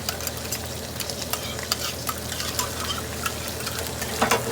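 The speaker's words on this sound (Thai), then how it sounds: "เอาน้ำใส่กะทิ เพราะว่ามันแข็งทุกคน" Coconut milk and water sizzle and bubble in a hot pan over a gas flame as Thai red beef curry with eggplant cooks, with steady frying crackle and sharp stirring scrapes close by.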